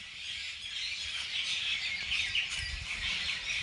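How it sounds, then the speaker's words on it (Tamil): Many birds chirp and call together in a large banyan tree where they gather to eat fruit, a dense continuous chorus of high twittering, moderately distant. "நிறைய பறவைகள்லாம் வந்து பழம் சாப்பிட வந்திருக்கு"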